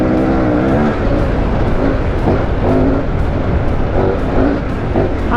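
A KTM 1090 Adventure R motorcycle engine revs and roars up close, rising and falling in pitch over several seconds of continuous, loud engine noise.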